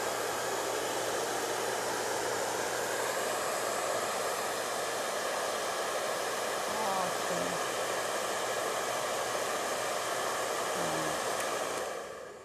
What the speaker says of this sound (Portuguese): É um secador profissional de boa potência e não tão ruidoso.